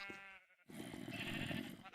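Sheep in a pen in Minecraft giving a short wavering bleat, then a second bleat after a brief gap, fairly faint with no talking.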